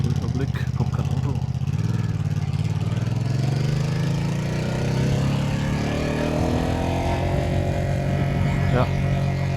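A 2025 Ducati Panigale V2S motorcycle engine runs loud and close while riding in first gear with the pit limiter engaged. The engine note climbs in pitch and then holds a steady, capped drone as the throttle stays open.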